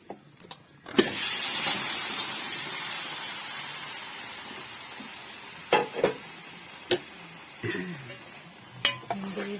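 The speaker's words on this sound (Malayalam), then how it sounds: "ഈ സമയത്ത് നമുക്ക് ഇനി ബീഫ് ചേർത്ത് കൊടുക്കാം" Beef dropped into a hot pan of cooked-down spices for beef fry, a sudden loud sizzle that settles into a steady hiss, broken later by several sharp spoon clinks and scrapes against the pan.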